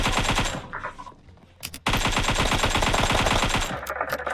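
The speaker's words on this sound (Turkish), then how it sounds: "Adamlar altımızda bize sıkıyor." Automatic gunfire in a video game shootout, with enemies shooting from below: loud, rapid rattling bursts run almost continuously, broken by a brief lull before heavy firing resumes.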